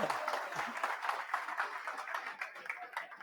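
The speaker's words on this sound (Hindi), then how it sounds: "अब बजा सकते हो ताली" Students in a chemistry class break into clapping, a steady, fairly quiet wash of many hands heard continuously, slightly distant and even in level.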